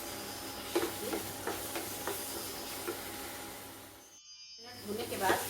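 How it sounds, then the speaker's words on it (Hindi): Masala with green chilli frying in a pan for paneer bhurji, a soft steady sizzle with a few light stirring scrapes, close but fairly quiet, dropping out briefly near the end. "इसको थोड़ा सा चला लेते हैं, करीब 2 मिनट तक इसको चलाना है ताकि मसाले इसमें अच्छे से भून जाएँ।"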